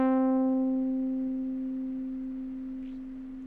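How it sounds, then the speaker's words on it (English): A synthesizer tone fed through a steep low-pass filter sounds almost like a pure sine wave. It holds one steady pitch, with its upper overtones fading away early, and slowly gets quieter over a few seconds. "you can almost get a sine wave because you're only letting the low frequencies pass"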